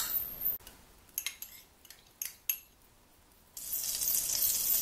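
Butter sizzling in a pan while cooking egg noodles, a steady bright hiss that rises near the end, broken by a few sharp utensil clinks and scrapes.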